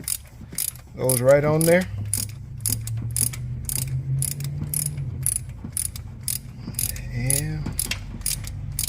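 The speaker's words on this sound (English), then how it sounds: "you get you a 3/4 or a 19 deep well socket." A ratchet with a 3/4 inch or 19 mm deep well socket tightening a part on an LSX engine in an OBS truck, fast steady clicking throughout with someone talking briefly over it.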